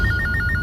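A telephone rings with a repeating electronic warble in short paired bursts, loud and clear over a low background hum, in a tense indoor scene of a Bengali crime drama.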